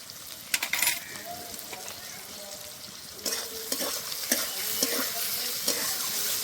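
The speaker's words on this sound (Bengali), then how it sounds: "এবার পেঁয়াজটা ভালো করে ভেজে নেব।" Onions and chopped tomatoes frying with Kashmiri red chili powder for an egg curry, a steady sizzle with repeated spatula scrapes and stirring knocks against the pan, close and fairly loud, with no talking.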